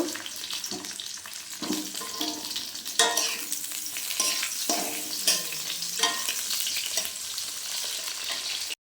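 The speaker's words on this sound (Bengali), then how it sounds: "কড়াইতে একটু তেল দিয়ে দেবো। বেগুনটা একটু ভেজে নেব।" Eggplant pieces fry in hot oil in a wok, a constant loud sizzle broken by occasional stirring scrapes and pops.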